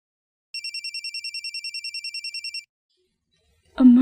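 A telephone ringing in an indoor drama scene, one electronic ring made of rapid warbling pulses lasting about two seconds, then silence before a voice begins.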